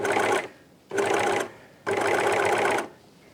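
A serger overlocker stitches fabric, sewing ribbing onto a neckline, in three bursts of steady whirring, a short one, a slightly longer one and a longer final run, each separated by brief pauses, close and alone.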